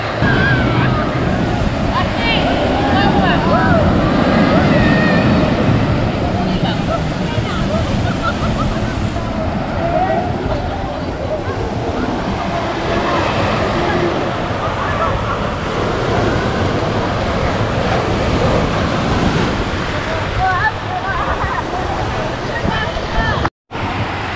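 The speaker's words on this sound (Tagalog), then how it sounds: "ang lakas ng alon" Loud, continuous roar of heavy surf crashing at Tando Beach in Infanta, Quezon, mixed with strong wind buffeting the microphone throughout, cutting out briefly near the end.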